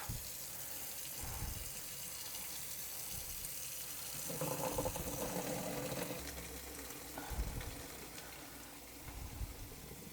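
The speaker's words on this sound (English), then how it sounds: "And you're going to wash the corn with cold water." Cold tap water runs over lye-treated white corn in a basket, a continuous splashing wash that swells louder midway with some clattering and sloshing, and no one talks.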